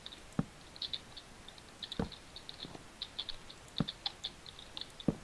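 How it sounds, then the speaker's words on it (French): Soft, irregular clicking of a computer keyboard during a game session, light taps in uneven bursts with a few sharper knocks, faint and close. "RIP, si t'entends le bruit de mon clavier."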